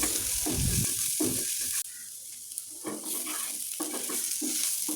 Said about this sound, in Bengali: ভালোভাবে পটলের খোসাটাকে ভেজে নিতে হবে। কিছুটা তেল দিতে হবে